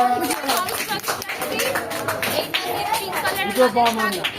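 People clap loudly together at a festive gathering for a deity idol immersion, the applause mixed with lively chatter and children's voices close by.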